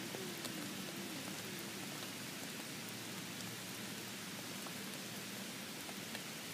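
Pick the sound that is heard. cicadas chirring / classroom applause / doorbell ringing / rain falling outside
rain falling outside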